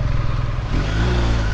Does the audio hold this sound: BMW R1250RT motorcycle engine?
yes